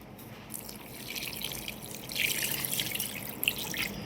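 Water trickles and drips into a bowl or vessel for mixing a batter, a soft, uneven splashing that grows a little louder partway through, with no talk.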